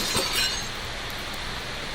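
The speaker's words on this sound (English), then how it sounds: "We'll grab a nearby chair and take advantage of the glass breaking mechanic." A chair smashes through glass in the Scraps video game, a brief bright shattering burst near the start followed by fading tinkling fragments, with no talking.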